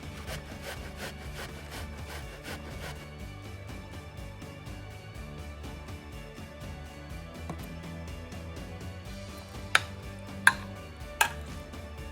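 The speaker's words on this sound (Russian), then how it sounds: "Два средних лука нужно натереть на мелкой терке." Two medium onions are rubbed against a fine kitchen grater in quick, even rasping strokes, a close steady scraping rhythm with a few sharp taps near the end.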